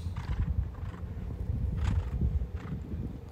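A horse moves in a show jumping round, with low thudding hoofbeats and muffled snorts under steady rumbling background noise, at medium distance.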